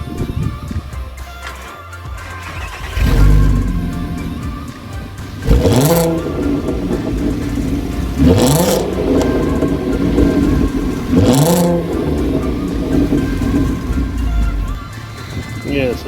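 VW Golf MK5 R32 4Motion engine revved three times in sharp, rising blips that fall away between, over a steady idle, with the engine close and loud.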